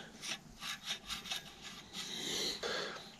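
A Gazelle Dutch-style bicycle's chainring rubs and scrapes against a part, giving close, repeated grinding strokes of uneven rhythm, with no talk over it.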